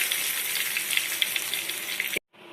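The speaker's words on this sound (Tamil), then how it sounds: "இதே மாதிரி எல்லா மீனையும் நம்ம தோசைக்கல்ல வச்சு ஃப்ரை பண்ணி எடுத்துடலாம்" Vanjaram fish fries on a hot dosa griddle with a steady, close hissing sizzle dotted with small spits, broken by a brief dropout before the frying sound resumes more quietly.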